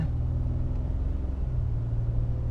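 A Ford F150 with a 6R80 automatic transmission, freshly serviced with new fluid at 32,000 miles, drives around the block, giving a steady low engine rumble with a slight shift in tone partway through and no talk.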